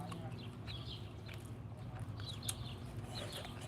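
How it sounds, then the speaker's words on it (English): Faint birdsong chirps here and there in a quiet room, with short high notes scattered over a low, steady background hum. "It's nice to hear the birds in silence for a while."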